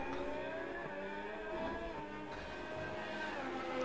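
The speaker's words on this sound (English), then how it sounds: "You can just hear the car, all the other cars in the background." Racing cars in a video game race in Britain drone in the background, engine notes rising and falling in a steady, distant-sounding hum with no speech.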